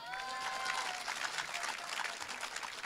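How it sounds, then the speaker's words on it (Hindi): An audience at a Hindi comic poetry gathering claps steadily and fairly close, a brief continuous patter of applause with faint crowd murmur beneath. "आप तालियां बजाइए।"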